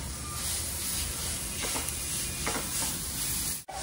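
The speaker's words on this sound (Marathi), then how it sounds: "व्यवस्थित कांदा वगैरे परतून घ्यायचे आणि त्यानंतर आपलं जे मिक्सचर बनवलं आहे ते आता यात घालायचे" Onion and okra frying in a pan for thecha give a steady close sizzle with a few stirring scrapes, loud and continuous, with no voices over it.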